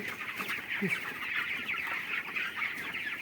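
A flock of chickens on a poultry farm clucks continuously in a close, busy chorus, with no voices over it.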